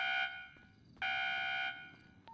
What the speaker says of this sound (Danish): alarm er gået. Effektiv alarmen.